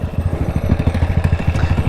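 A Honda Grom motorcycle engine putters steadily nearby at low revs, a rapid rhythmic thumping with no voices.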